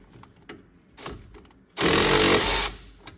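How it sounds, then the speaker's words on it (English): Power tool on a strut bolt during front strut removal on a 2014 Chevy Silverado, a loud rattling burst of about a second after scattered clanks and taps, with another faint knock at the end. "We should be able to bust it loose with this 3/8 ratcheting wrench"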